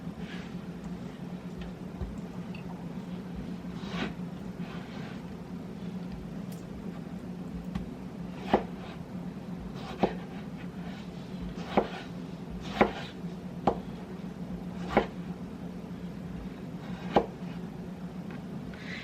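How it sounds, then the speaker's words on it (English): A knife chops a tomato on a cutting board in a quiet kitchen, a string of sharp, irregular taps that spread out over time, close and clear against a faint background hum. "Chop a tomato."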